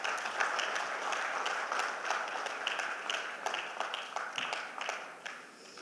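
An audience at a speaking event gives steady applause after a talk on cuisine, with dense clapping that holds evenly and then tapers off near the end.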